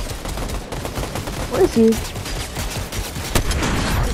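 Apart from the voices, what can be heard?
turret gunfire in the video game Fortnite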